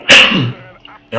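A loud, sharp sneeze bursts out near the start, followed by a fading voiced tail, with a brief spoken word and another sound onset at the end, amid in-game audio from a German-language Call of Duty 4: Modern Warfare training level.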